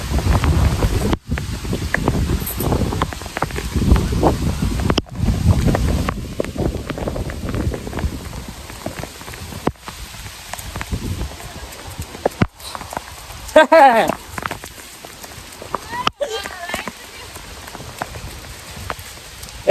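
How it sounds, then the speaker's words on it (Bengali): Heavy rain pours and wind gusts during a Kalbaishakhi storm in the Baishakh season, heard on an open road: a dense, steady hiss of rain close to the microphone, with buffeting wind and a faint voice now and then. "দেখুন কত সুন্দর বৃষ্টি হচ্ছে।"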